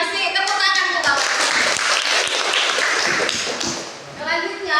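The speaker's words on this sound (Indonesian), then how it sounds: "Tepuk tangan untuk Bapak" Applause for a speaker at an Indonesian teacher-training class session fills the room: a steady, close, dense clapping from a group that lasts several seconds, briefly dipping before swelling again.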